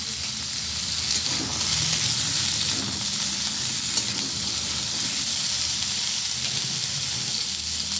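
Bay leaf and slit green chillies sizzle steadily in hot oil, a loud, continuous frying hiss close by with no talk over it.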